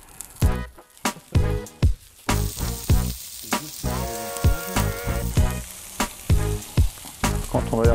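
Langoustines dressed with olive oil and coarse salt sear on a brasero plancha, giving bursts of sizzle and crackling spatter in an irregular, pulsing rhythm, close up with no talking.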